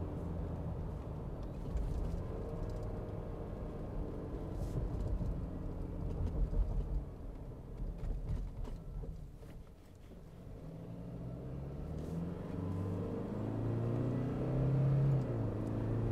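A 2021 Toyota Fortuner in sport mode with paddle shifters makes a steady, low cabin engine hum, the pitch rising and falling through gear changes as it drives on a hill road toward Genting.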